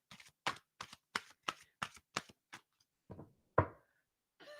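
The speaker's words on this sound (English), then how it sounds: "I'm shuffling the deck." Quick, crisp riffling snaps of a deck of cards being shuffled, about eight close bursts in a row, then a pause and a few softer, looser flicks.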